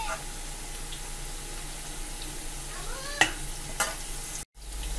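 Eggplant pieces stir-fry in a pan with a quiet, steady sizzle, broken by a few sharp scraping clicks of the spatula and a brief cutoff near the end.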